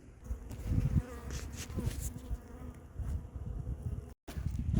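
Honeybees buzz steadily around a large hive during a winter inspection in January, a dense, continuous droning swarm close by with no talking.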